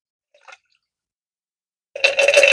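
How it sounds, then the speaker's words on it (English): Whisky cocktail poured over ice into a glass, a short faint clink early on, then a brief pause before a bright, close splashing pour starts and runs to the end. "This is a generous pour."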